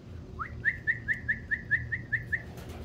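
A pet bird at home gives a rising whistle, then a quick, evenly spaced run of about nine bright chirps, clear and fairly close over faint room noise.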